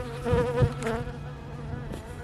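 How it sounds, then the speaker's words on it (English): A bee buzzing around a hand and camera in a spring garden, a close, wavering drone that swells and fades as it moves, with no speech. "That bee just buzzed all over my hand and the camera."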